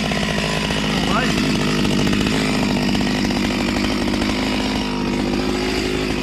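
A chainsaw cuts through wood outdoors, its engine roaring loud and close in one continuous, buzzing drone that holds steady before easing slightly near the end.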